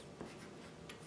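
A name being written on folded paper: a brief, faint scratch of a writing tool rubbing across the sheet, close and soft with no talk.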